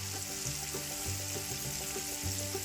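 Onions cook in a cast iron pan with a soft, steady sizzle, joined by quiet scraping or stirring sounds at irregular intervals.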